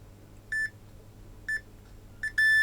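A multimeter on continuity mode checks original wires at an E.T. Furby's corroded battery terminals, giving three short, clear electronic beeps spaced about a second apart, the last one held longer, over a quiet room.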